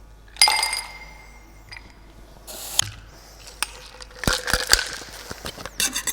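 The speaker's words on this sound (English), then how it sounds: "We're gonna add ice to a chilled glass." Ice clatters into a chilled cocktail glass for a Gold Rush cocktail, with sharp clinking and rattling impacts in several bursts, loudest near the start and again in a cluster toward the end, with no talking.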